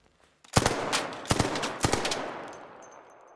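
Video game gunfire, three loud close bursts of rapid shots about a second apart, each followed by a decaying echoing tail.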